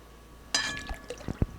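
Vanilla extract, one tablespoon, poured into a mixing bowl with beaten eggs and heavy cream for a bacon French toast casserole, giving a short liquid pour followed by a few soft drips and splashes, close and quiet.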